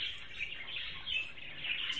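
Budgerigars in a breeding colony give steady, soft high chirps and tweets that overlap continuously, with small swells in activity and no voices.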